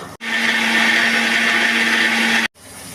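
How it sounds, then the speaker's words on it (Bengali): A mixer grinder runs in one steady, loud burst of about two seconds, with sharp stops at each end, grinding a spice paste of curd, nuts, coriander, cumin, chilli and ginger with fried onion for a pointed gourd dolma. "ওটা এর মধ্যে দিয়ে বাটা হবে"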